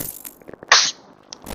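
A single sharp sneeze bursts out close by, preceded by a few small breathy sounds, then fades into near silence.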